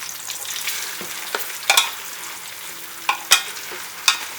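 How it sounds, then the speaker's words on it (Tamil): Sliced big onions frying in oil in a pan for Chennai-style marriage biryani: a steady soft sizzle throughout, broken by several sharp scraping stirs of a spoon, close up with no voices. "இனி இந்த பல்லாரி வெங்காயம் வந்து நல்லா வந்து எண்ணெயில் வந்து வதங்கி ஒரு ஃப்ரைடு ஆனியன் ஸ்டேஜுக்கு வரணும்"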